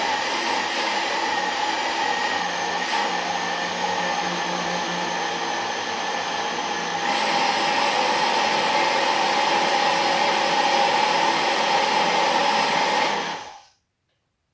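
An electric mixer blends cottage cheese pizza dough with a loud, steady motor whine that runs unbroken for about thirteen seconds, then cuts off sharply into silence.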